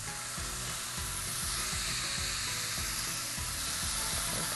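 Beef and bellflower root (doraji) skewers fry in oil in a pan, giving a steady, close, dense sizzle that stays even throughout with no talk over it.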